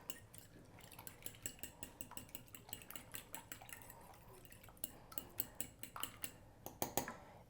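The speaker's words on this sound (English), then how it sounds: "we're gonna put them in the bowl and beat them up" Two eggs are beaten in a bowl, heard as a quick run of rhythmic utensil taps and clinks against the bowl with a faint wet slosh, close up and steady, with no speech.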